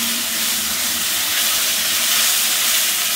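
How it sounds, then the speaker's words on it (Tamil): Ginger garlic paste sizzles in a hot pan for prawn gravy, a loud, close, continuous frying hiss with no pauses. "இஞ்சி பூண்டு பேஸ்ட் போட்டு அதையும் கொஞ்சம் நல்லா வதக்கிக்கோங்க"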